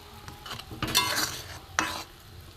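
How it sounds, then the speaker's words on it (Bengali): Pitha mixture with cardamom and salt being stirred in a pan, giving soft scraping and rustling strokes with a couple of louder clattering scrapes, close and without talk. "একটু ঘেঁটে দেবো"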